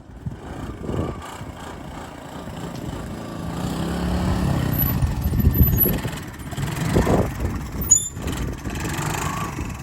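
A Honda ATC185s three-wheeler engine runs steadily at a mid-pitched idle nearby, with a few throttle surges and mechanical rattles, without any talking.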